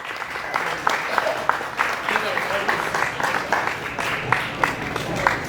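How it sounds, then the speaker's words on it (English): Audience at a live comedy show at a brewery claps steadily for about five seconds, a dense sustained wash of applause with scattered sharper claps and some crowd voices mixed in. "give a huge round of applause"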